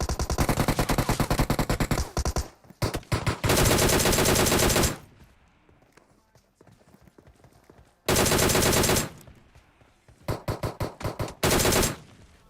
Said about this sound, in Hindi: अब जब यहाँ पे टोमी गन चली थी यार, मेरे को लगा एक और टीम आ गई